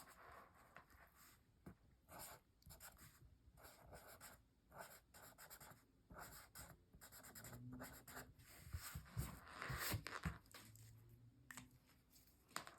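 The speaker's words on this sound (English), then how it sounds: "let's write Grandma." A pen writes on a small gift tag used as a Thanksgiving place card. Soft, close scratching strokes come in irregular bursts, faint and steady, with no talking.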